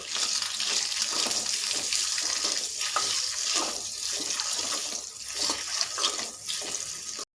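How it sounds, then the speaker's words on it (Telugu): Boiled eggs frying in spiced oil in a pan, a close, steady crackling sizzle that surges and eases with no voices over it. "ఇప్పుడు ఇందులోకి మనం ముందుగా ఉడికించి పెట్టుకున్న ఎగ్స్ని యాడ్ చేసుకొని ఫ్రై చేసుకుందాం"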